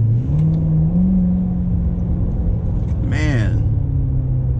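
A 2016 C7 Corvette Stingray accelerating, its engine a steady droning rumble that holds and climbs slightly, with a brief rising whine near the end, all under someone talking.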